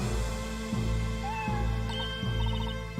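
A cat meows in the video game Professor Layton vs Phoenix Wright: Ace Attorney, with a couple of short, faint meows over a looping game music track with a steady bass pulse.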